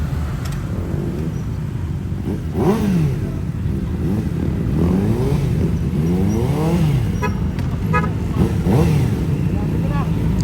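Several motorcycles revving and pulling away together on a group ride in Tarlac, engines rising and falling in pitch over a steady rumble, with people talking nearby.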